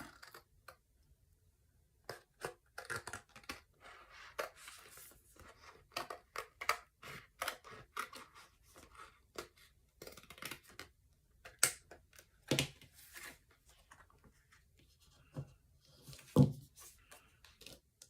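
Scissors snip apart cold transfer daisy stickers on a plastic sheet, a long run of quiet, irregular close-up clicks and short crisp cuts with a few louder snips, no talking.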